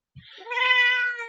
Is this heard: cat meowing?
yes